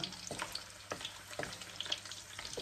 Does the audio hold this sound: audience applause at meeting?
no